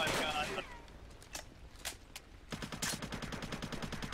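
Bursts of video game gunfire: a few sharp isolated shots, then a rapid automatic volley near the end. A voice talks briefly at the start.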